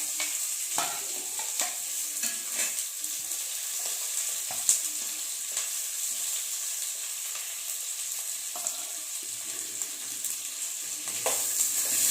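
Onion, green chilli and curry leaves fry in hot oil with urad dal for mango rice, a steady close sizzle with scattered crackles and occasional stirring scrapes throughout.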